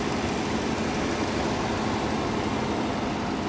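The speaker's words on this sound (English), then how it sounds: "Pretty smooth, quiet engine." A 2015 Chevrolet Tahoe 4WD LT engine idling, a steady, even low hum with no revving or changes in pitch, heard close and alone.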